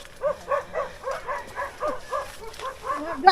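A dog on a rural farm in Masbate barks in a quick run of about a dozen short yips, fairly close and clear, with no talking over them.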